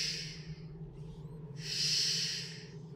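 A character snores in the video game Dishonored, two slow, breathy, rasping draws with a pause between them, faint and close over a low background hum.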